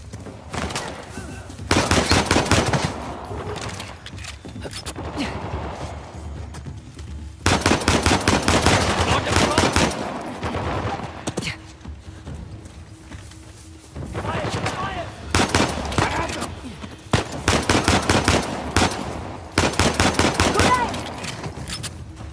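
Rapid bursts of automatic gunfire in Uncharted: The Lost Legacy, loud and close, coming in several dense volleys separated by quieter stretches of ambient combat noise.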